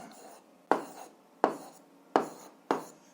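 A pen writes out an algebra solution by hand on paper, a sharp tap at the start of each of four short strokes with a scratchy trail after it, close and quiet, alone.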